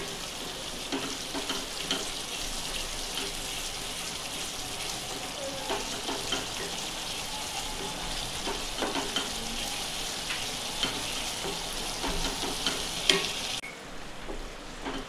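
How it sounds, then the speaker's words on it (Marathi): Masala and okra (bhindi) sizzling and frying steadily in a pan, with scattered stirring clinks and scrapes through the mix, dhaba-style masala bhindi cooking close by and alone. "आता बघा, मसाला चांगला आपला परतून झालेला आहे"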